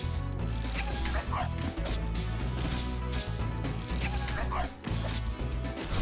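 Dog enemy barking in the platform game Spyro, several sharp yips and barks in quick succession over busy game music and effects, with a few thuds and crashes mixed in.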